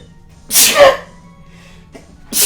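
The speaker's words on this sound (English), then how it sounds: "That was really unladylike of me to sneeze like that." A sharp, loud sneeze from a woman in the Phoenix Wright: Trials and Tribulations game, a single burst with a brief intake before it and the start of another sneeze at the end.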